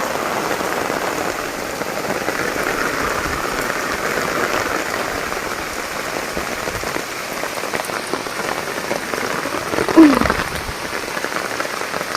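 A heavy downpour in a village pours down steadily, a loud, dense, unbroken hiss of rain on surfaces with one brief louder knock near the end.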